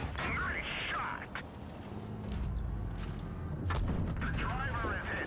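A tank gun fires in the mobile game World of Tanks Blitz, with sharp booming shots over continuous battle noise and rumbling engine sounds.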